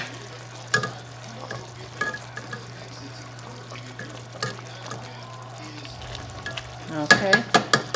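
A pot of greens cooking very slowly on the stove for Sunday dinner, with soft, steady bubbling and stirring scrapes, a low constant hum underneath, and a brief clatter of spoon taps near the end.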